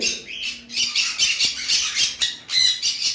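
Sun conure parrots squawk in a loud, dense chorus, shrill overlapping calls repeating almost continuously with short dips between bursts, close by and without any talk.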